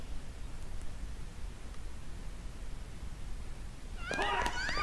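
Near the end of a quiet stretch of hiss, a cat in a Yakuza Kiwami cutscene lets out a couple of short, clear meows.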